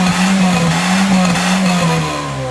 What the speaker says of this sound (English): Dante, step on the gas.